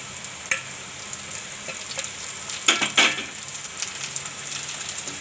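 Spinach hitting fried onions in a pan, a steady close sizzle with a sharp crackle as the leaves drop in and brief stirring scrapes, no voices.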